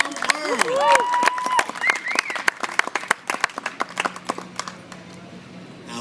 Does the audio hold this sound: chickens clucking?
no